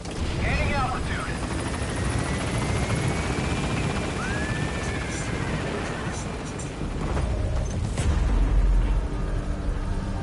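A helicopter lifts off in Metal Gear Solid V, its rotor roar loud and steady throughout, with voices speaking over the engine noise.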